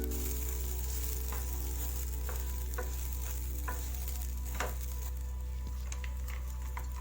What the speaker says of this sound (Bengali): এখন আমি মিক্স করা চালগুলো দিয়ে ভালো করে চালগুলো ভেজে নেব।